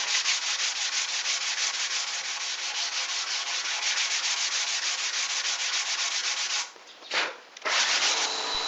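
Steady, close power sanding on the wooden frame of a cabin bed, a continuous abrasive hiss that breaks off briefly near the end before starting again, with no talking.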